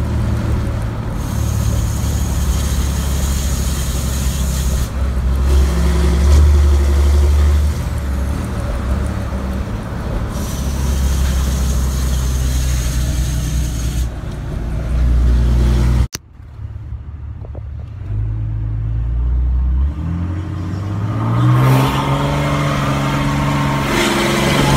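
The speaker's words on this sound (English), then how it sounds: "Straight pipe, you get a lot of noise inside the cab, a lot of drone too" A Cummins 6.7 diesel pickup with an EGR delete, retuned engine and straight-pipe five-inch turbo-back exhaust rumbles with a deep, droning low note. A sharp break comes midway, then the engine note climbs as the truck pulls away.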